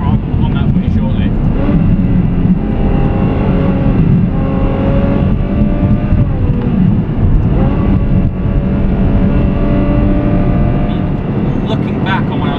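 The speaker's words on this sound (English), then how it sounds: "I think there's perhaps more road noise, a bit more sort of exhaust noise inside" Steady road roar and exhaust drone fill the cabin of a 2016 Ferrari on a road past a reservoir, with engine tones rising and falling continuously throughout.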